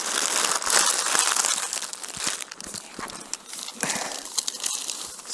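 A plastic rubbish bag handled on an autumn feeder fishing trip crinkles and rustles close up in a steady run of crackles for several seconds, with no talk over it.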